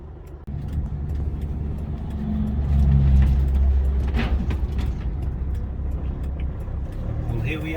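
A heavily loaded van labours uphill through traffic with a steady, close engine drone that swells as it pulls away and then holds, while a person talks over it.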